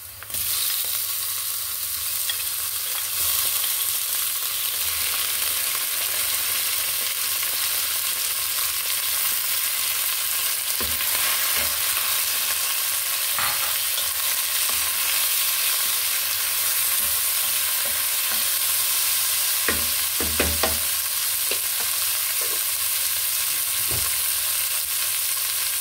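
Chicken breast frying in a pan gives a loud, steady sizzle, with scattered clicks and scrapes as the pieces are stirred, continuous and close throughout.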